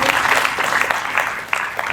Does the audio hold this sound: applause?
yes